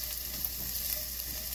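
Onions and garlic sauté in oil in a pan for miso soup, giving a close, steady sizzle and crackle that runs evenly without a break.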